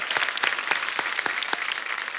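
A television studio audience breaks into loud, lively applause for a singer, with close, dense clapping and a few sharper individual claps poking through the steady wash of sound.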